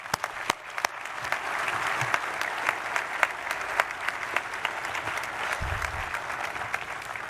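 Audience applause at a 2020 diploma ceremony, steady and sustained clapping from a moderate distance with scattered sharper individual claps standing out, no talking over it.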